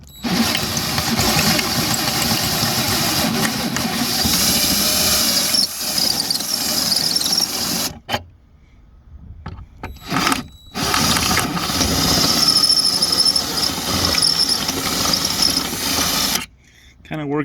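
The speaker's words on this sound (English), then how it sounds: "Kind of work your drill bit around." A handheld electric drill widening holes in a metal license plate mount, loud high squealing bursts with brief pauses and restarts, the bit worked around in short runs.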